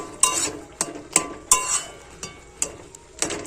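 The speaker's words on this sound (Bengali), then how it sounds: "আর এই কচু শাক কিন্তু এইভাবে বারবার নাড়াচাড়া করতে হবে" Boiled colocasia (taro) leaves being stirred in a pot, a handful of sharp metallic clinks and scrapes of a spoon against the pot at uneven intervals, close and unaccompanied by voices.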